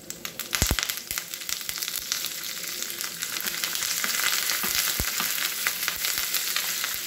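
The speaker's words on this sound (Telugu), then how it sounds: "ఇవన్నీ బాగా ఫ్రై అవుతున్న టైంలో మనం వెల్లుల్లిపాయ వేసుకుందామండి" A tempering of garlic and curry leaves frying in hot oil for an Andhra-style Malabar spinach dal, a loud, close, steady sizzle with crackling pops and occasional stirring clatter.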